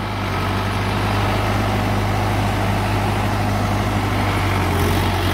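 Diesel engine of a Solis Yanmar 5724 tractor running steadily around 1600–1700 RPM for PTO work, a loud continuous low drone with a constant hum throughout, no voices.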